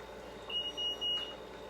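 A kitchen timer beeps in three short bursts while peanut brittle cooks on the stove, the beeps bright and close over a steady hum of background noise.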